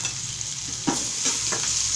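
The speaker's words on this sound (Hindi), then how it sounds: "फिर ढक्कन हटा के चला देते हैं।" Peas fry on a low flame in an uncovered pan, a soft steady sizzle broken by a few scraping stirs of a spoon, close and quiet with no talking.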